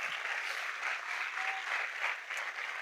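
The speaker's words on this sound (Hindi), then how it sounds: "आइए प्रभु के लिए जोरदार ताली बजाएंगे।" Congregation applauding loudly during a Hindi-language church revival service, a dense, steady wash of clapping that continues without break, with no talk over it.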